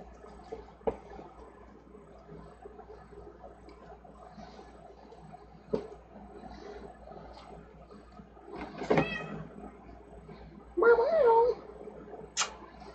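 A cat meows briefly several times in a quiet room during a livestream of lantern work, short rising calls near the end standing out over low background noise.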